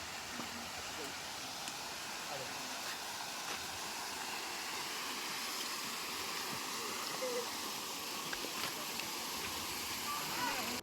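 Steady rushing water from small hillside waterfalls near Tiger Fall, Chakrata, fills the whole clip, a broad continuous hiss like a nearby stream tumbling over small falls, with no clear breaks.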